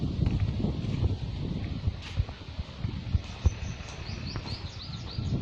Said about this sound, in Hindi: पक्षियों के कोलाहल की आवाज़ें सुनाई दे रही है